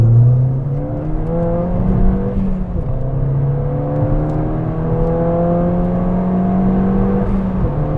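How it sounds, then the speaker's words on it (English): Ford Fiesta ST at full throttle with a Milltek exhaust, its intake whooshing as the engine pulls hard through rising revs, with a quick gear change and a loud continuous drone up close. "I can literally hear the intake then, literally sucking in the air"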